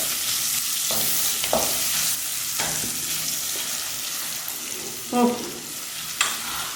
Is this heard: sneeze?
no